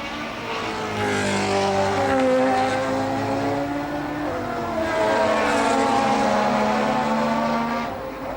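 Formula 1 race cars at Imola in 1988 howl past with high, shrieking engine notes that rise and fall as they approach and pass, loud and continuous, with one car following another.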